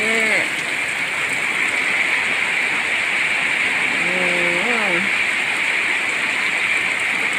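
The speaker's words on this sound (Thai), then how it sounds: "ฝนตกนะคะ" A loud, steady downpour roars throughout, while a brief wavering tone rises and falls twice beneath the rain.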